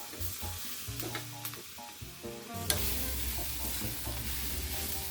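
Green unripe tomatoes fry a second time over a low flame in a pan for chutney, a steady sizzle broken by stirring scrapes, with a louder, denser hiss from the midpoint onward and no voices.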